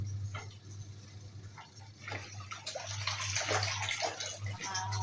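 Water splashes and sloshes in a washing machine tub as dirty water is changed, steady and close, with a low mechanical hum underneath throughout.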